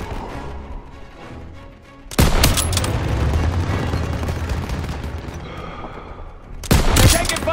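Gunfire in Call of Duty WW2 on a wartime street: quieter distant shots first, then a sudden loud fusillade of rifle and machine gun fire that rolls on continuously, with a fresh heavy burst near the end.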